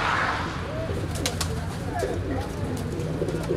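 Pigeons coo in soft repeated low calls in an aviary, mixed with other bird chirps and a steady ambient hum, close by and continuous.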